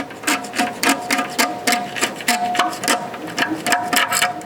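A scraper works the old gasket off the rim of a kamado grill in a steady series of rhythmic rasping strokes, close and fairly loud, with no talking.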